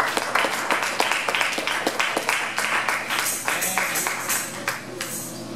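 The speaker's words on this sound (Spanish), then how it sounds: "Démosle un aplauso fuerte al Señor." A church congregation at a Pentecostal service claps steadily, a dense, loud round of applause that carries on without pause for several seconds.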